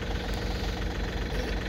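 A John Deere 3520 compact tractor engine runs at a steady low rumble, close and continuous, with no voices.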